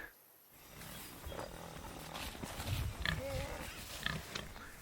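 Pigs on a farm grunting and squealing in a busy, overlapping chorus at moderate distance, with rustling and shuffling movement throughout.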